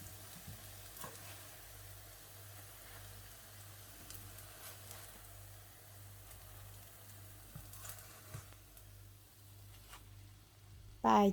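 Oil frying in a pan gives a faint, steady crackle and sizzle that continues throughout, with a low background hum and a brief louder clatter at the very end.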